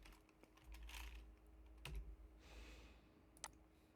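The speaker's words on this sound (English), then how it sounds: "you can type it in." Quiet computer keyboard typing, a handful of scattered key clicks and taps over about four seconds with low background hum, no talking.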